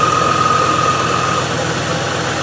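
A Range Rover engine idling with a misfire, a loud, steady close-up drone with a faint whine, with no distinct stumble standing out.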